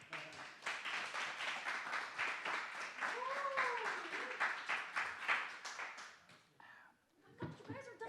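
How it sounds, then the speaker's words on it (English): Audience applause at the close of a tech talk on the Rust programming language, a dense steady patter of many hands clapping for several seconds before tapering off, with scattered voices and a brief whistle-like tone mixed in. "You guys are done clapping already"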